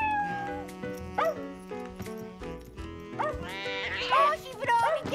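A cartoon puppy in a children's animated show barks and yips in short bursts, mixed with whimpering and meow-like cries, over background music and sound effects.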